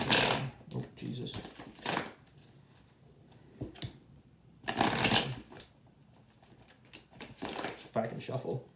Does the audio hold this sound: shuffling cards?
yes